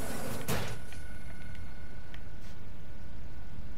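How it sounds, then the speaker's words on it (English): A door opens in the game Cyberpunk 2077, a short sharp burst of hiss and clatter near the start followed by faint mechanical clicks over a steady ambient hum in an indoor room. "I heard a door."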